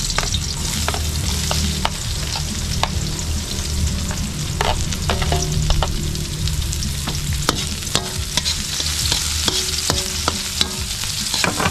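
Onions stirred and frying in a hot pan after browning, a steady close sizzle with repeated scraping and stirring clatter throughout, no talk.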